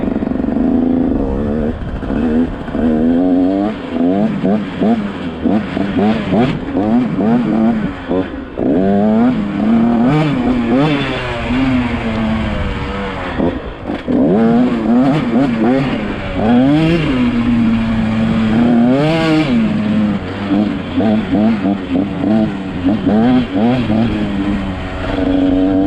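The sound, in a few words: motocross dirt bike riding a lap on a sand track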